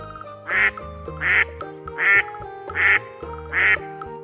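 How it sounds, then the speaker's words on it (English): A duck quacks five times in an even, regular rhythm, loud and close, over a steady musical backing. "Duck."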